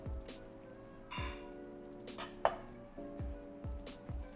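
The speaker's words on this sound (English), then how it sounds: "Now, I am going to chop some fresh coriander leaves" Fresh coriander leaves chopped with a knife on a board for a fish head curry, giving a handful of crisp, irregular knife strikes over a quiet kitchen background with faint clatter.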